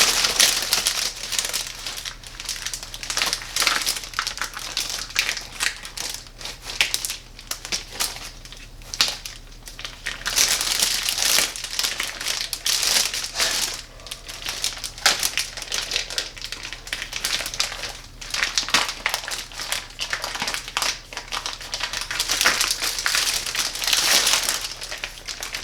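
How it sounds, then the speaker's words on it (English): Smoked ham being pulled out of tight plastic wrap, close crinkling and crackling of the plastic in irregular bursts throughout, with no talk. "the ham is wrapped up tight in plastic inside, so I'm going to get my ham out of this plastic"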